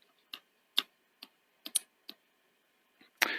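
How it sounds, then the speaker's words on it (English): Front-loading mechanism of a Sony Betamax video recorder, its switches giving a series of sharp, close clicks spaced irregularly as a tape is pushed in, followed by a brief rattling scrape at the end. "you can hear both switches when I push the tape in clicking"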